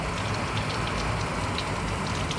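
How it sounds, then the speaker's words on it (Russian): Heavy rain and strong gusty crosswind batter a village house, heard from inside the kitchen as a loud, steady broadband roar with no voices. "Вот такой сильный боковой ветер. И ливень тоже."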